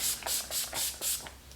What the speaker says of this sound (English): I like to spray my face a couple of times